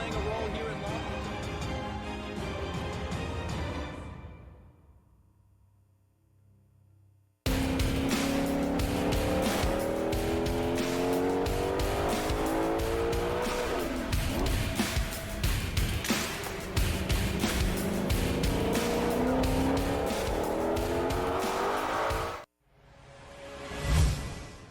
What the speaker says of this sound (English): Approaching, pulling some tire up.